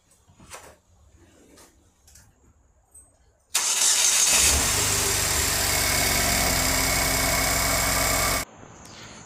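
After a few quiet knocks and clicks, a Saturn Sky engine cranks and catches after a valve cover gasket replacement, then settles into a loud, steady idle before cutting off.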